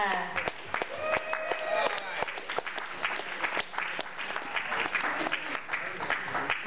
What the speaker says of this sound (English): But please give a round of applause for Dennis McMillan, a.k.a. Sister Dana.